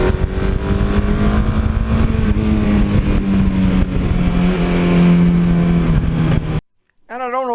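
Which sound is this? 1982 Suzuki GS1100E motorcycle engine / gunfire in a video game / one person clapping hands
1982 Suzuki GS1100E motorcycle engine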